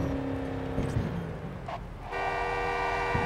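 The Quadra Type 66 Javelina's horn blares in sustained honks over its steady engine noise while it takes a tight turn on the Lake Farm hill climb, with a brief gap between the blasts.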